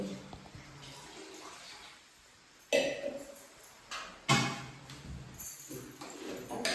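Water is poured in a home kitchen while bajra (millet) bhakri and a potato dish are being made. Two or three close, splashing pours stand out over a quiet room with soft background noise.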